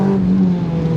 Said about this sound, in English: just like a big 4-cylinder engine up there making an almighty racket